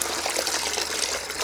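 Water poured off rinsed African horned melon seeds in a bowl, a steady close splashing gush with no pauses.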